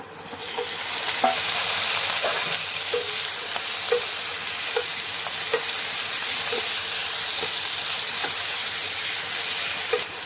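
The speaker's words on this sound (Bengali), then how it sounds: "এবারে দিয়ে দেব কাঁচা টমেটোটা।" Raw tomato is added to lightly fried onions in a pan, a steady close sizzle and hiss with faint scraping stir clicks every second or so, no voices.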